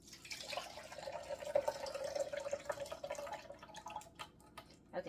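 Apple juice drips and trickles from a Nama juicer in a faint, close, continuous stream with a light liquid patter.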